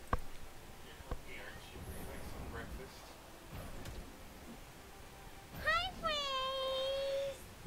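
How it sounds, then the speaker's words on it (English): A cat squeaks in a quiet room, giving a short rising chirp and then a longer, sustained high squeak near the end, with only faint rustling and soft whisper-like noise before it. "Who would have thunk a cat can squeak?"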